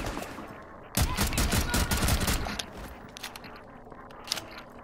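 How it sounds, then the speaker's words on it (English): Rapid automatic gunfire from Rainbow Six Siege, a tactical shooter in closed beta, erupts loudly as a dense burst for about two seconds, then gives way to scattered softer shots and footsteps. "I walked up towards him while I was shooting him"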